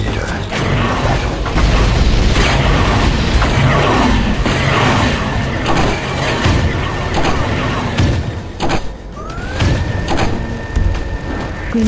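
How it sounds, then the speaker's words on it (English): A grenade launcher fires and blasts in a Turok 2 remastered online multiplayer match: mechanical clunks and booming explosions over constant loud in-game noise, with a short rising tone near the end. "Grenade launcher."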